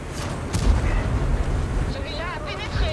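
Ship guns firing in a naval video game: a sharp booming shot followed by rolling rumble, with faint whistling tones and a voice murmuring in the background.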